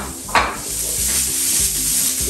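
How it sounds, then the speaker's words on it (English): Onions fry in about two tablespoons of oil with a loud, steady close-up sizzle, broken by a brief stirring scrape near the start and soft rhythmic knocks of the pan, with no talking. "fry your onions a little bit"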